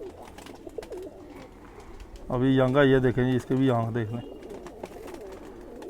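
A khaki Sialkoti pigeon gives a loud, close run of throaty rolling coos in one burst, with someone talking before and after.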